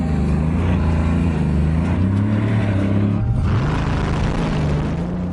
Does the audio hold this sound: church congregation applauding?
no